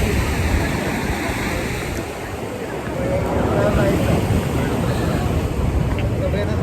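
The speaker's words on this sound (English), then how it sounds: "The waves are really small on this side" Small ocean waves wash onto the shore in a steady, broad rush, swelling slightly after a brief dip, with wind buffeting the microphone throughout.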